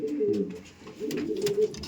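Madrasi pigeons coo in a loft, low rolling calls repeating in two close bursts with a brief pause between, fairly near and steady.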